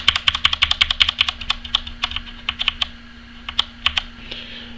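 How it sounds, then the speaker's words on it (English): Keys clacking on a Corsair K70 mechanical gaming keyboard, a rapid run of crisp, close taps in uneven clusters, thinning out to a few spaced presses near the end over a faint steady hum. "So if I press the Windows key"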